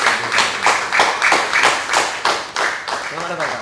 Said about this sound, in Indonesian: Berikan tepuk tangan yang meriah dulu buat Insinyur Edwin Samosir